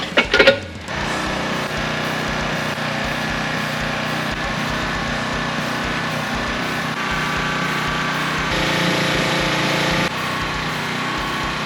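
A power wire wheel brushing a gas tank whirs at a steady high pitch after a short clatter at the start, grinding continuously and close with slight swells in intensity.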